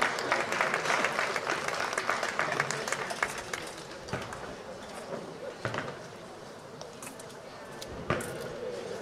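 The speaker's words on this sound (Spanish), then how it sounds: "así que un aplauso por ser más alto" Crowd applause at an ancient-world historical reenactment in Villena, loud at first, then thinning into scattered claps with a few sharp knocks, a voice speaking underneath.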